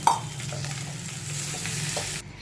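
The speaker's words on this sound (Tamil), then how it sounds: "ஸோ இப்போ நம்ம இதை ஆட் பண்ணி மிக்ஸ் பண்ணிக்கலாம்." Boiled pasta is stirred into egg in a hot pan, giving a loud, continuous frying sizzle with scraping stir strokes and a brief clink at the start, with no talk, until it stops abruptly near the end.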